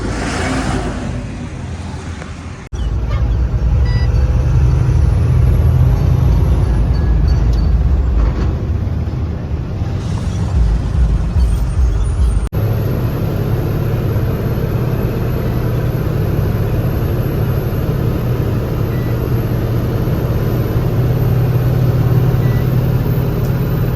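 A loaded truck travels the highway from Nagpur toward Chakan, climbing the Karanji ghat behind Nagar, with a loud, steady engine drone and road rumble from inside the cab throughout.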